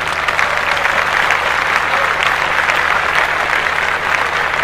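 A studio podcast audience breaks into loud, sustained applause, a dense wash of many hands clapping at full volume, unbroken and with no speech over it.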